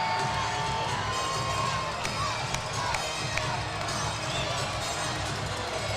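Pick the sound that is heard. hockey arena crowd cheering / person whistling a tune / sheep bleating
hockey arena crowd cheering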